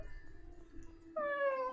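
A cat meows in a video game, one clear drawn-out tonal call near the end after quiet game ambience.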